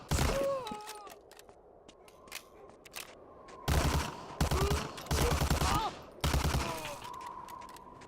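Bursts of MG42 machine gun fire in the Medal of Honor: Allied Assault video game, several loud rapid volleys with sharp single shots and gaps between them, no talking.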